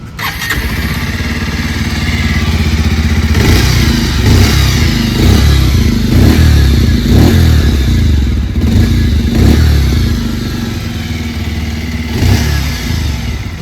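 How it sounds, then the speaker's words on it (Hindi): A 2026 Bajaj Pulsar 125 Carbon Split Seat motorcycle idles loudly up close, its single-cylinder exhaust thumping steadily with several short throttle blips rising and falling, no talking. "आइए अभी सुन लेते हैं इस बाइक की एग्जॉस्ट नोट।"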